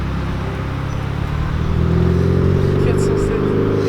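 A small car with a hole in its exhaust accelerating nearby: a loud, rough, low rumble that swells and builds over a few seconds.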